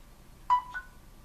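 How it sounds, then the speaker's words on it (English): A phone gives a short two-tone electronic chime when plugged in to charge, faint and brief in a quiet room. "It's got an epic sound too when you plug it in."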